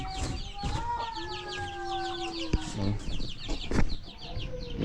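Free-range farm chickens cluck repeatedly and irregularly close by, with a rooster-like call and scattered background sounds mixed in.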